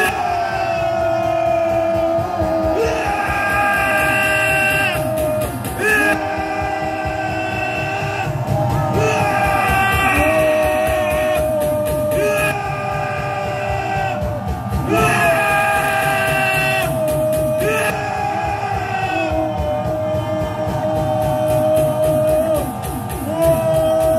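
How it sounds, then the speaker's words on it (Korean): A group of soldiers roars a sustained battle cry together, facing forward, outdoors in cold weather, loud and continuous with massed voices and shouts swelling and dipping. "전방을 향하여 함성"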